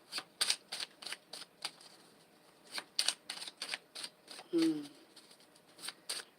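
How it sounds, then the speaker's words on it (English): Playing cards being shuffled in several quick riffling bursts, crisp and close, with a brief low thud partway through and no talking. "Just going to do a little bit of shuffling, see what comes out"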